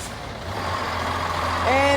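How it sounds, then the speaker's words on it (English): A Volvo B10B bus with a Custom Coaches 238 body rumbles nearby with a steady low engine drone, and a brief higher tone rises near the end. "And now we have 3559, a Volvo B10B with a Custom Coaches 238 body."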